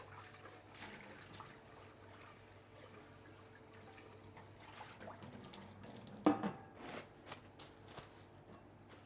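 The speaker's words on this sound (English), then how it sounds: "Just going to need to rinse out one of my bowls." A bowl rinsed under a running kitchen tap while making a carrot cake, with a faint steady water wash and a brief louder splash and clatter near the end.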